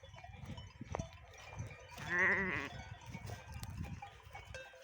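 Out on pasture, a grazing sheep flock gives one clear, wavering bleat mid-clip over soft rustling and faint background sounds, fairly close but not loud.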